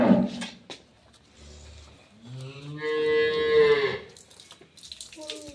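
A dairy cow of an improved milking breed lows on a farm in Dinajpur, one long drawn-out moo rising and falling, close and fairly loud, with scattered thumps and faint farm noises around it.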